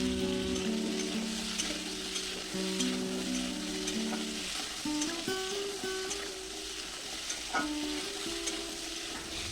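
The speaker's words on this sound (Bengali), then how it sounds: "এখন কেটে রাখা বাকি সব সবজিগুলো একসঙ্গে ভেজে নেব।" Chopped vegetables frying in hot oil in a wok for a pumpkin-leaf dish, a loud continuous sizzle with stirring noises under faint background music tones.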